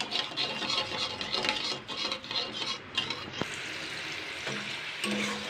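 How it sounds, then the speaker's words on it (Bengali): Water and oil stirred in a pan for aloo papad, with steady scraping and sloshing under a faint sizzle, a spoon clinking against the pan now and then, close and moderately loud throughout. "জলটাকে জাস্ট হালকা নাড়াচাড়া করে নেবো"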